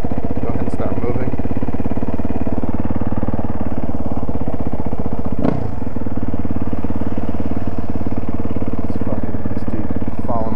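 A motorcycle engine runs loud and close with a steady, pulsing low rumble in first gear, while a rider's voice is faintly audible over it.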